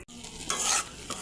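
Spices for prawn malai curry, seasoned with salt and cumin powder, sizzle and fry in a pan while a spoon stirs them in brief, scraping bursts, fairly close and with no talking.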